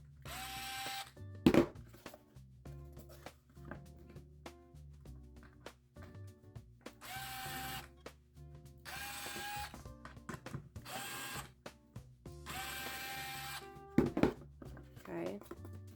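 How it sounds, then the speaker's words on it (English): A power drill on a low setting whirs in several short bursts through foam board, separated by pauses, with a voice speaking quietly in the gaps between bursts. "I'm just carefully drilling through"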